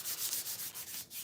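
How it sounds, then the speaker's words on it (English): Wax rubbed between two hands to warm it, a soft, rhythmic swishing friction repeating in quick strokes, close and quiet, with no speech. "I'm just going to rub it together in my hands to kind of warm up the wax"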